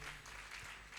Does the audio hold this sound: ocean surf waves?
no